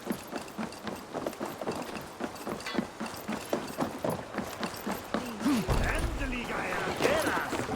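Horse hooves clip-clop steadily along in the video game Assassin's Creed Valhalla, a brisk regular beat of hoof strikes running under voices talking, with a deeper rumbling swell near the end.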